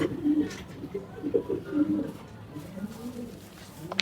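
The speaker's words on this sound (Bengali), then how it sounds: "এই কবুতরটা পুরো অ্যাডাল্ট কবুতর" Pigeons in a loft, including an adult bird, give soft, repeated throaty coos close by, while a voice talks over them at times.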